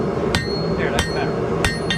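Three sharp, ringing hammer strikes on metal while forging a san mai blade, evenly spaced, close and loud over a steady background hum.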